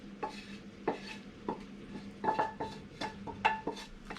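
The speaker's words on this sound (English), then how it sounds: "in go the onions" Onions being added to a pan and stirred in for a cottage pie, with a spoon scraping and knocking against the pan in irregular clinks and scrapes, close and fairly quiet, no talking.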